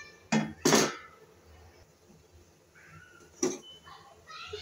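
Cut raw mango pieces for keri gudamba drop into a pan in a few sharp clattering bursts, two close together and one later, with quieter shuffling between.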